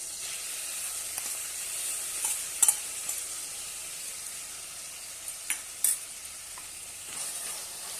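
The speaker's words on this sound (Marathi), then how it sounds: "छानपैकी परतून घेऊया दोन तीन मिनटं" Spring onion chutney sautéing in a pan makes a soft, even sizzle, punctuated by a handful of sharp spoon scrapes and clicks at irregular intervals, with no voices.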